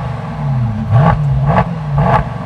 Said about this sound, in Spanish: vamos a prenderlo para que suene